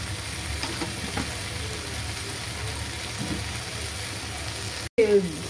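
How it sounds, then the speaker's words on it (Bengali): Tomato with chili powder and chili flakes sautéed in a pan for ghugni: a steady, even sizzle with a few soft stirring scrapes, then a brief dropout and a louder clatter at the end. "এবার এটাকে ভালো করে এবার কষিয়ে নিচ্ছি"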